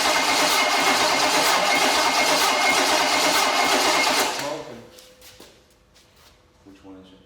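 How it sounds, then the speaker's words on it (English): A Chevy small block engine from a barn find turns over on a test run with a loud, rapid, steady mechanical chatter for about four seconds, then cuts off, leaving quieter clicks and handling noises. "Robert, if this engine acts funny, just pull that off."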